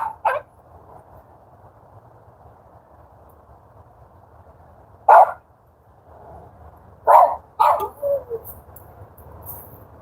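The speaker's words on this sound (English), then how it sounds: "She's just barking at the hot chocolate." A dog barks several times, sharp single barks spaced apart, with a cluster of quicker barks toward the end over quiet room tone.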